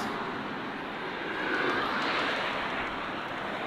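A fixed-wing airplane drones overhead at Pismo Beach, a steady broad engine rumble that swells slightly midway, moderately distant and with no voices.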